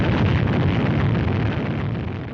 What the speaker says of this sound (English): After rising but a few feet, the three-stage 72-foot rocket loses its thrust.